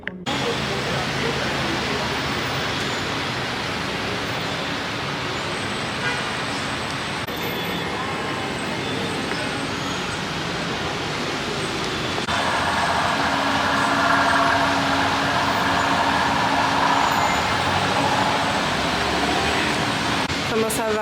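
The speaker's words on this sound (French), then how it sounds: "1 heure après, on est toujours dans les embouteillages, les amis" Kinshasa street traffic jam heard from inside a car, a dense steady rumble of engines and road noise with occasional louder swells, people talking over it.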